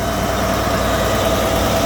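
A John Deere 9560RT tracked tractor with a 13.5 liter John Deere engine idles steadily at a drag race event, a loud, close, continuous low rumble with constant vibration and no talk.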